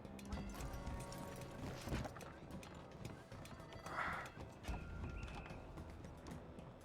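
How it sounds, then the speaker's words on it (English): Hooves clip-clop over busy Red Dead Redemption 2 game sounds, with a horse whinnying partway through amid a dense, noisy background. "Why did you just stand there while a horse came at you?"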